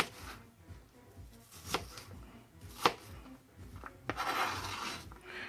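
A knife cutting vegetables alongside onions on a board for chicken fajita pasta, heard as quiet, irregular chops and slicing scrapes up close, with a few sharper knocks and a short rustle near the end.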